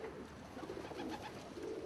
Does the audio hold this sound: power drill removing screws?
no